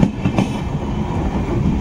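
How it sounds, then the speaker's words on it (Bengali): Amrit Bharat Express on its inaugural run arriving at Farakka Junction station, wheels clattering over rail joints in a close, steady rhythm with a dense low rumble. "প্রথম inaugural run Farakka junction railway station এসে পৌঁছলো।"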